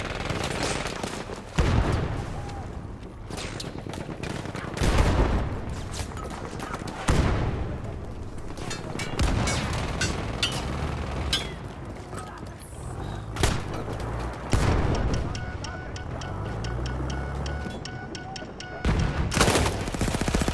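Heavy battlefield combat in the video game Battlefield 1: repeated booming blasts, consistent with artillery fire, land every few seconds over continuous gunfire and machine-gun bursts, with loud, dense, overlapping explosions close and far.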